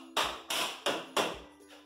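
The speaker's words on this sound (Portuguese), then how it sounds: "Se você tiver de bater, você utiliza um martelo de borracha, tá?" Rubber mallet tapping a window frame during installation of a four-panel window with two fixed and two sliding sashes: four firm, evenly spaced knocks, close and fairly loud, with no talking.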